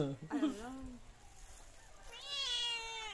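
Cats meow nearby, a short rising meow near the start followed by a longer, higher meow toward the end, with a person talking briefly around them.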